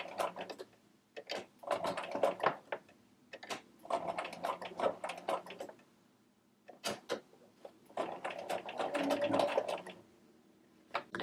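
Short bursts of a home sewing machine stitching a tiny doll-clothes collar, a few quick stitches at a time separated by pauses for pivoting around a corner, close and fairly quiet.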